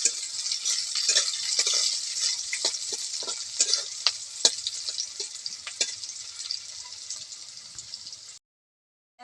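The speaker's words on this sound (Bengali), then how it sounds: "শুকনা লঙ্কা বাটা, জিরা বাটা, হলুদ গুঁড়ো, এটা আমি ভেজে নেব" Onion sizzles in hot oil with dried chili paste, cumin paste and turmeric powder added while being stirred, a loud continuous frying hiss with crisp scraping clicks of the spatula, ending abruptly.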